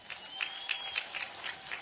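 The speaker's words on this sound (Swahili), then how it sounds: "Hebu makofi mengi sana kwa mwanasheria mkuu wetu." A crowd at a regional government gathering in Arusha claps for the attorney general, a soft, fairly distant patter of applause with a few sharper individual claps standing out.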